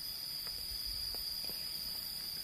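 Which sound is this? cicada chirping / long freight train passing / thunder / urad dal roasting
cicada chirping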